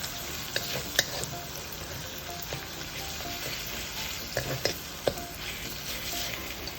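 Raw mango pieces stir-fried in a pan for raw mango rice, giving a steady quiet sizzle with occasional scraping clicks as they are turned over. No one speaks.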